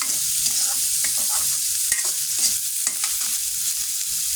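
Fish heads and taro curry fry steadily in a pan, a continuous crackling sizzle with occasional stirring scrapes, close and fairly loud, with no voices.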